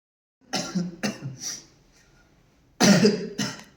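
A series of dry, hacking coughs at close range: three quick coughs, a pause, then two more, with no talking.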